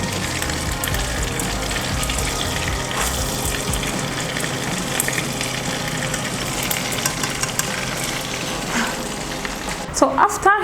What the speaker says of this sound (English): the oil is beginning to boil and the aloe vera is getting brownish, so I'll continue to stir this